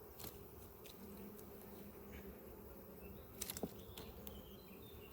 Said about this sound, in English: See, the wasps are out now, they've smelt it